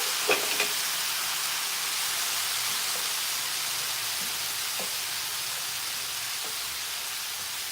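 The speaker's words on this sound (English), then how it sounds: "you hear it sizzling?" Steady hissing sizzle of taco filling frying in a pan, close and continuous, with a few faint clicks and no voices.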